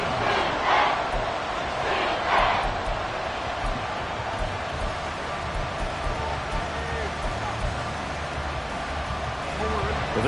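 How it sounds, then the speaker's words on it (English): A football stadium crowd roars steadily throughout, a dense continuous wall of cheering and noise, with a couple of brief louder swells near the start. "this crowd trying to force a false start here"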